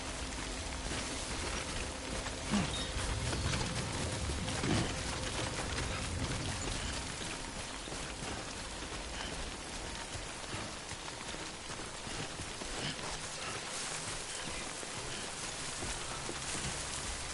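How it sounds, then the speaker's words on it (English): Rain falls steadily in Death Stranding, a continuous hiss of drops on surfaces with a few faint thumps early on and no talk. "Good thing it was raining."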